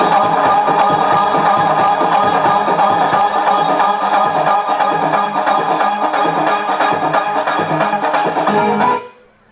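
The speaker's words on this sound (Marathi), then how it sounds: "ताईंसाठी जोरदार टाळ्या." Crowd at a Home Minister contest event held for a birthday celebration applauds and cheers loudly for a woman contestant, a dense steady roar of clapping and voices that cuts off abruptly near the end.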